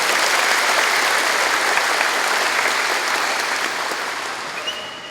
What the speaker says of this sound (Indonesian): Kita berikan aplaus, tepuk tangan semuanya